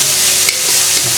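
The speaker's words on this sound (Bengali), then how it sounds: "টমেটোটাকে ভেজে টমেটোটা একটু ভালো করে নেড়ে ফেলে নেবো বা ভেজে নেবো একটু হালকা" Tomatoes fry in a pan while being stirred, a loud, close, continuous sizzle with scraping from the stirring.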